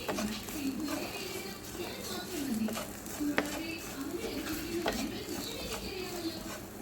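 Spiced grated coconut masala with curry leaves and cinnamon is stirred and roasted in a pan, with repeated scraping spoon strokes over a continuous dry sizzle, close and fairly loud.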